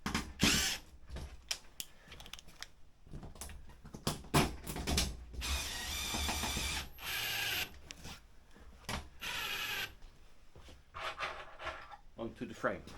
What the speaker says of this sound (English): And screw it in nicely.